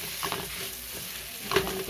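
Cut potatoes frying in butter and ghee with salt, a soft, steady sizzle broken by a few scraping stirs of a spoon in the pan.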